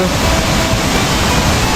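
Tall waterfall deep in forest at Dong Luang, Mukdahan, giving a steady, dense roar of falling water that holds at one loud level throughout with no breaks.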